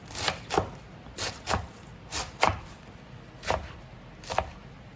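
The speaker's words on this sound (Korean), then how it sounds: "로메인은 머리를 잘라요" A knife chops through crisp romaine lettuce leaves against a board, about a dozen quick uneven cuts, close and fairly quiet.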